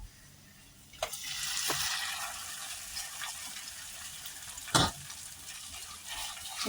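Soaked poha is mixed with turmeric in a pan, a soft continuous crackle with a few sharp knocks and scrapes of a spoon against the pan, close and fairly quiet.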